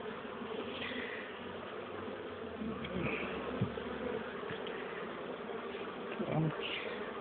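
A steady, dense buzzing of many bees being shaken off during a hive relocation fills the scene, close and continuous, with faint handling noises and no clear talking.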